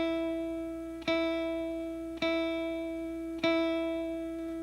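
A clean electric guitar note is plucked three times at even intervals, each ringing bright and sustained before the next pick.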